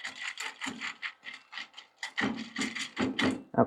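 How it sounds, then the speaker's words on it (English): A whisk stirs a dry food mix in a pot, giving a close series of short, rhythmic scraping strokes that grow louder and heavier toward the end. "we will grab our whisk, and we will whisk it up."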